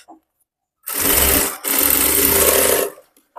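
A sewing machine stitches the lining along the neckline of a boat neck princess cut blouse in two loud, close bursts of fast whirring with a momentary break between them.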